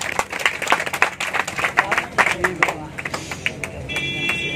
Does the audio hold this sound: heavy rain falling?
no